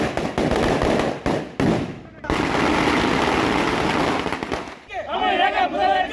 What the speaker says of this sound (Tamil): அந்த கிராம மக்கள் பட்டாசு வெடிச்சு கொண்டாட்டத்தில் ஈடுபட்டிருக்காங்க